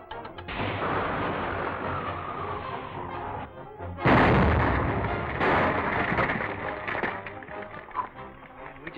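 Explosion in a 1937 Dick Tracy serial, a loud rumbling blast that swells and breaks into crashing debris, with a second burst midway, then decaying rubble noise.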